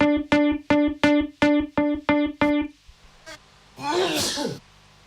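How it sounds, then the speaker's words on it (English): A string of rhythmic, sung-like vocal syllables is followed by a pause and then one loud, breathy sneeze. "I sneeze, guys."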